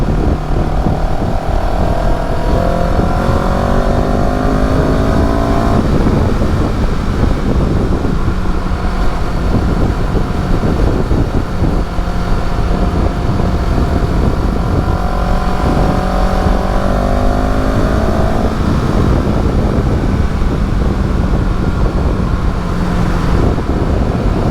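CFMoto CL-X 700 café-racer motorcycle running while ridden, a continuous smooth engine drone rising and falling in pitch through gear changes, loud and steady with wind and road noise, no talking.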